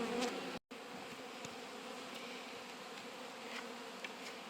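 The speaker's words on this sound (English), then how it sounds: "I am not seeing pollen on any of these bees coming back." Honeybees in February return to the hive, a soft, steady buzzing hum with occasional individual bees passing close by.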